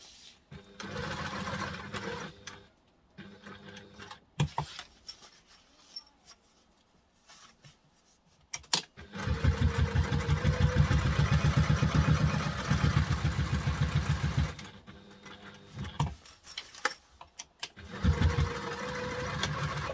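Domestic sewing machine stitching a reusable fold-and-store duffle bag, several bursts of rapid close motor whirring separated by quiet pauses and handling sounds.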